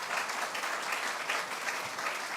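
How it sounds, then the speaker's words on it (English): A large crowd applauds Congressman Jerry Nadler at a New York–New Jersey announcement about the Port Authority Bus Terminal: dense, steady applause that holds at an even level throughout, with no voice above it. "Let's give him a round of applause."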